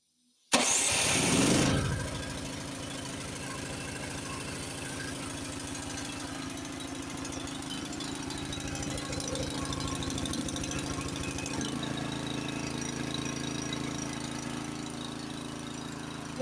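A Honda snowblower engine cranks on its electric starter, fires almost at once and settles into a steady loud idle, running alone without talk.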